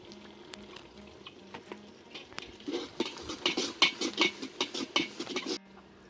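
Onions with green chillies sauté in a pan for kushka, giving a soft sizzle broken by quick scraping and tapping stir strokes that grow busier, close by and with no talking.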